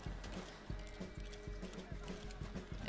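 Horse in the video game Red Dead Online, steady rhythmic hoofbeats clip-clopping at a trot, close and clear, with someone speaking briefly over them.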